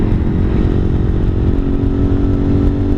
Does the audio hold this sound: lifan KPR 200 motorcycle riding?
yes